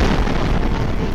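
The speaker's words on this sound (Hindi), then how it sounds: "बम गिरते ही वहां एक जोरदार धमाका हुआ।" A bomb explodes in a residential area during Russian bombardment in Ukraine, a loud, dense sustained roar of blast and rumble that fills the clip and cuts off abruptly.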